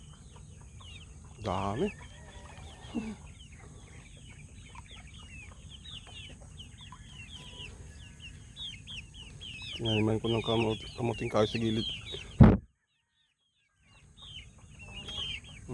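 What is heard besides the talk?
chickens clucking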